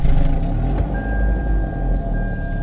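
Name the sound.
Toyota Camry engine starting, loud exhaust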